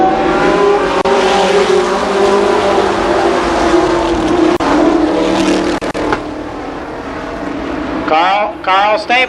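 Sprint cars race around Columbus Motor Speedway with a loud, continuous engine roar that surges and fades as they pass, and a commentator speaks at the end.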